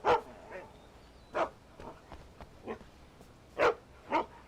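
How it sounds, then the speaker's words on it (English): A dog barks in the game Alan Wake, about six separate woofs spread unevenly over a few seconds, some loud and near, others softer, against a quiet backdrop with no talking. "I hear a dog."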